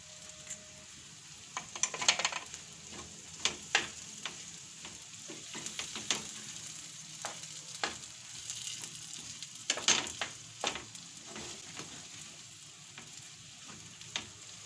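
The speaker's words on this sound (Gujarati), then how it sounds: "હવે આપણે આને ઘડીક વાર સડવા દેવાનું છે તેલમાં" Soaked fenugreek seeds and green chilies fry in hot oil for a Gujarati methi marcha shaak, a steady close sizzle with crackles and brief stirring clatter throughout, no voices.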